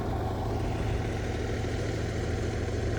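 John Deere 4430 tractor engine idling while planting oats, a steady low rumbling drone that stays even and close for three seconds, with no voices.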